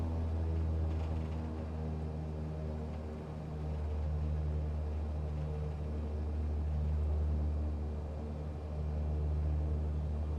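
A steady, droning rumble of twin aircraft engines hums continuously at moderate volume, swelling slightly now and then, from a small twin-engine plane in Microsoft Flight Simulator.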